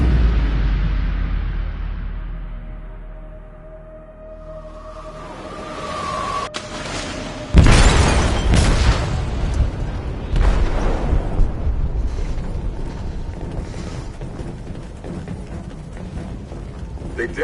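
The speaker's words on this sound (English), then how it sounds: "They detonated an explosive in the hold. The ship is sinking, sir." A loud, close explosion goes off in a ship's hold in the video game Detroit: Become Human. A sudden heavy boom bursts out of a quieter stretch and leads into a long, rumbling roar with scattered crashes and debris.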